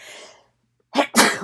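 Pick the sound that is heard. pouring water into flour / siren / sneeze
sneeze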